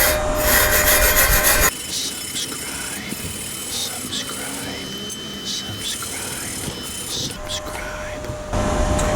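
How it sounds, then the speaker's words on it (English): A wire brush scrubs slag off a gasless flux core weld bead, making a close, steady, gritty rasping that scratches back and forth. "I'm going to go ahead and take the wire brush, and I'm going to go ahead and take this slag off"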